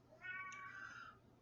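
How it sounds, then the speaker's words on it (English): A single drawn-out cat meow, faint and fairly close, rising then trailing off over about a second in a quiet room. "Yes, Kitty, I hear you."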